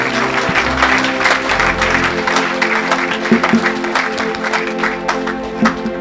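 A church congregation claps and cheers in praise at a deliverance service, sustained loud applause mixed with voices and a low musical drone underneath.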